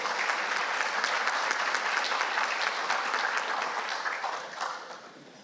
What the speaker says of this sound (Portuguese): uma salva de palmas para o senhor Bruno Duban